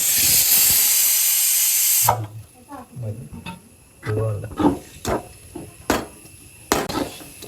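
Loud steady hiss of water hitting a hot masala pan for about two seconds, cutting off abruptly, followed by sharp metallic knocks and clatter of cooking in a home kitchen.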